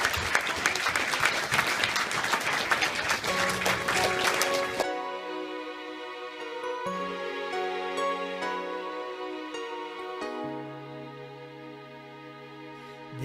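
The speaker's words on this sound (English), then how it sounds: "So one more big round of applause for Darlene, our first ever volunteer of the year." Dense, loud applause from a crowd at a minor hockey volunteer award presentation lasts nearly five seconds, then gives way to a sustained piano and music passage.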